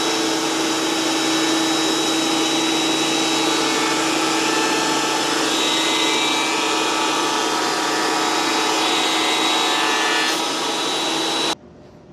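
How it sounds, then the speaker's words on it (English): A thickness planer feeds clamped wood boards through in a single long, loud, steady whine with whistling tones, then cuts off abruptly near the end. "I am just going to clamp these together and run them through the thickness planer"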